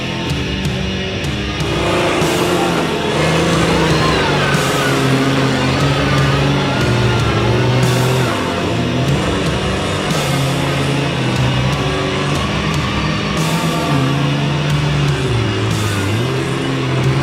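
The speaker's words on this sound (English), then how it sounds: "we got two big trucks coming up. Cummins powered and twin turbo LS" Two big trucks, one Cummins-powered and one twin-turbo LS on big tires, rev hard in a deep mud hole; loud engine roar rises and falls in repeated surges, continuous throughout.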